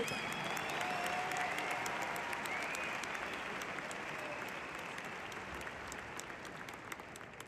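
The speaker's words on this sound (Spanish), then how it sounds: "Aplauso para el profesor." An audience claps steadily, a dense wash of applause that tapers slightly toward the end.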